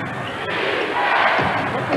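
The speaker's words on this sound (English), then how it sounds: "The crowd again chanting defense" A basketball arena crowd at a 1992 Spurs versus Bulls NBA game keeps up a loud, rhythmic group chant of defense, dense and steady throughout.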